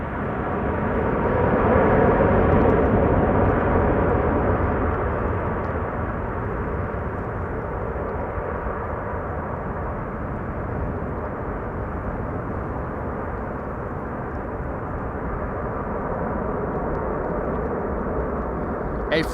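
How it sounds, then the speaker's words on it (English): A jet airliner landing at Amsterdam Schiphol Airport on a sunny day, a broad loud engine roar swelling early and then holding as a steady rumble for the whole span, with no talk over it. "That looked like a bit of a rough landing."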